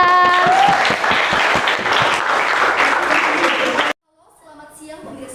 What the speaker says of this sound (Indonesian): kita beri tepuk tangan untuk Kayla